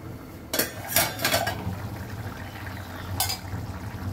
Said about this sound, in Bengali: এখন আমি ঢাকা দিয়ে রাখ